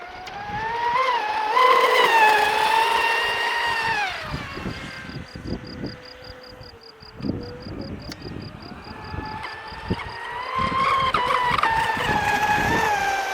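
Traxxas Spartan RC speedboat motor howling at full throttle on choppy water, a loud high whine that rises, drops in the middle with splashing, then climbs again.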